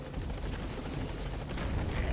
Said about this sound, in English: Alright, the chopper's touching down.